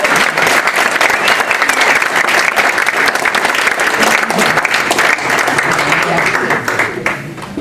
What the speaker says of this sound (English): Please give Cliff Alexander a round of applause